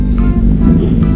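A motorcycle fitted with a racing exhaust gives off a loud, steady low rumble close by, holding an even level throughout with no clear rise in revs.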